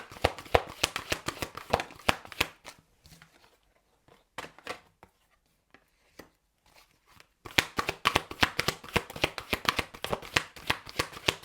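A tarot deck is shuffled close up in rapid riffling bursts of card slaps, with a quieter stretch of sparse taps in the middle before brisk shuffling resumes.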